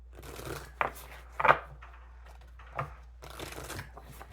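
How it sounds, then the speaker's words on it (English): Tarot cards shuffled by hand in a quiet room, a few separate riffling bursts with short pauses between them, close and fairly soft. "Two more shuffles."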